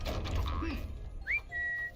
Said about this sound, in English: I'm trying to do the whistle, but you gotta like hold down the other button.